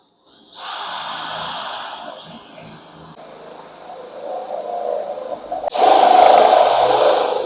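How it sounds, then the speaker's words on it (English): A power drill whirs as it bores holes during work on a 1952 Plymouth resto-mod, running in several sustained bursts that start, dip in pitch under load, then surge louder and harsher near the end; no one speaks. "But I should start drilling them deeper."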